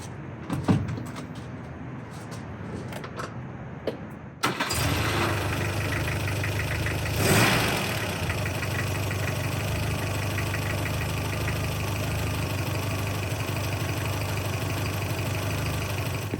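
A car with old points ignition cranks briefly and fires up after being jump-started from a LokiThor J401X jump starter, then settles into a steady, loud idle close by, with a short rev swell partway through.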